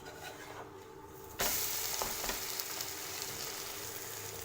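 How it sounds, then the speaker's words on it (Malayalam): Thattukada-style egg dosa fries in oil with garam masala and chicken masala on a hot pan. Quiet scraping comes first, then a loud, steady sizzle starts abruptly and hisses continuously to the end. "എണ്ണ ഒഴിച്ചു കൊടുത്തു ഇനി ഒന്ന് വെന്ത് വരുമ്പോൾ തിരിച്ചിട്ട് കൊടുക്കാം"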